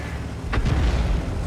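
In the tank battle game World of Tanks, a single deep artillery boom rolls out and lingers as a low rumble, loud and close, with no speech over it.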